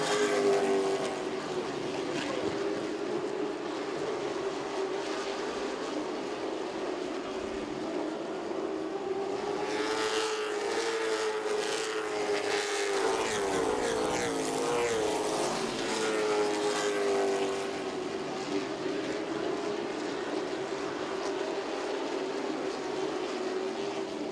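Late model race cars circle East Carolina Motor Speedway, their engines blending into a continuous loud droning roar that swells as a pack passes close in the middle, then settles back to a steady distant hum.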